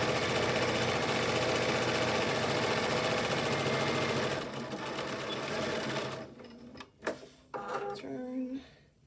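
A sewing machine runs fast and steady while stitching elastic onto a fabric mask, close and continuous for several seconds, then stops and gives way to brief handling knocks and a few short stitching bursts.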